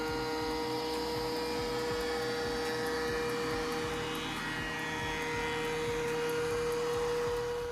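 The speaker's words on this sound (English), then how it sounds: "So we used a planer thicknesser." A planer thicknesser squares up timber for a chicken coop build, giving a loud, steady mechanical whine with a constant hum and rapid cutting chatter underneath, running without pause.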